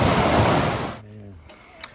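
Running water at a spring along a hiking trail gives a loud, full rushing hiss that cuts off abruptly about halfway through, leaving quieter background with a faint voice.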